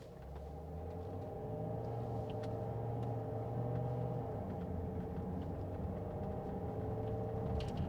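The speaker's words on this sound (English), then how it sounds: "you'll be able to hear just how quickly this thing shifts through the box without driving hard, just an ordinary gentle pull away" A Range Rover L322 TDV8 diesel with an automatic gearbox pulls away gently, giving a steady low cabin rumble of engine drone that holds even throughout, without any clearly marked gear changes.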